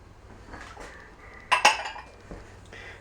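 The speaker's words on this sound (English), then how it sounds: "Just use a spoon. And stir it till it all gets incorporated well together." Bread dough with raisins for a Pascha Easter loaf being stirred with a spoon in a bowl, with quiet scraping and a few sharp clinks of the spoon against the bowl near the middle.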